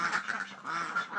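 Ducks on a duck-keeping farm quacking in a short, continuous burst of overlapping calls, fairly close and moderately loud, with no talking.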